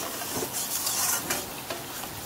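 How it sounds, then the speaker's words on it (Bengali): Chicken kosha frying with spices in a pan while being stirred, a steady close sizzle with scraping stir strokes and no talking. "আরও কিছুক্ষণ ধরে আমি কষবো, কাঁচা যাতে গন্ধটা চলে যায়"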